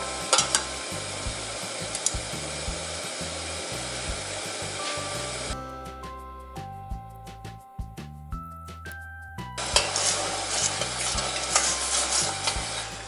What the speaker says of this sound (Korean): 나머지 다 건져내고 국물을 좀 졸여줄게요